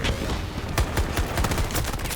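Rapid gunfire crackles in a shooting video game match, with smoke grenades in play. Dense bursts of overlapping shots rattle quickly and loudly, with no voice over them.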